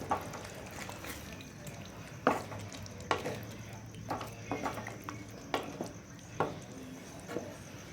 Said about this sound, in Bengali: এখন এটাকে আমি ভালো করে নাড়াচাড়া করে নেব।